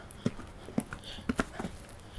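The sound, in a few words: mare's hooves on arena ground while riding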